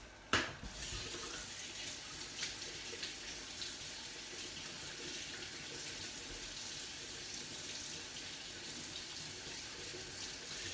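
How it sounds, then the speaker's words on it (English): Water poured into a pot of mushroom soup on the stove, a steady splashing stream that starts with a sharp clank, then runs on unbroken for several seconds. "And then I'm going to add about 500 millilitres of water."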